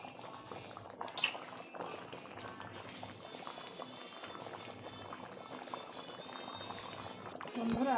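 Vegetable stems simmering in a covered pot, a faint steady bubbling with a few louder clinks and a lid-like knock near the end.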